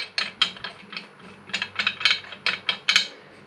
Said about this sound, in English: now we are hand tightening, getting these threads started